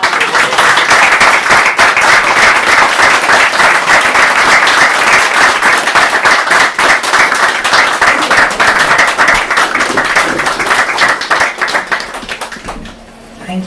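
An audience applauds steadily and loudly after a guest reading at a First Wednesday literary series event, the clapping sustained and dense before tapering off near the end.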